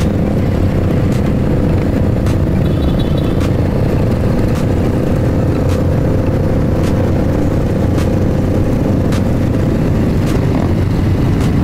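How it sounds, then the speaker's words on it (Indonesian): Motorcycle engines rev loudly and continuously during a Saturday-night group ride on a road, a steady close roar with no talk. "abangnya geber-geber juga guys. Geber-geber coy"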